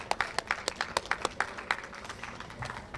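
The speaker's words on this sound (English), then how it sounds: "please give her a round of applause" Applause from an audience at a German-American Chamber of Commerce event, a fairly faint patter of scattered hand claps with a few sharper close claps, heard alone.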